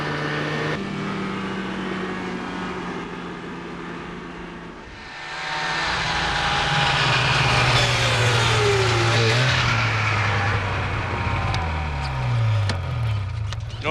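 A two-stroke engine runs loudly and steadily, its pitch rising and wavering as it revs up through the second half, with no talking over it.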